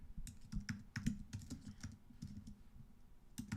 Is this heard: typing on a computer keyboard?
yes